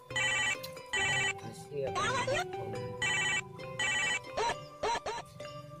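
A telephone rings in repeated short electronic bursts while a call is placed, fairly close, with people talking between and over the rings.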